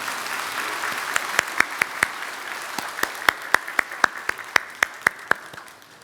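A church congregation claps together in a rhythm of sharp, distinct strikes under a wash of scattered applause, moderately close, fading slightly near the end.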